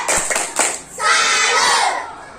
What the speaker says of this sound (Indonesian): kasih tepuk salut buat Dayu